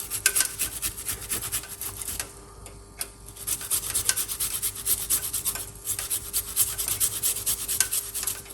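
Fresh ginger is grated close up in quick rhythmic rasping strokes, with a short pause partway through before the scraping resumes.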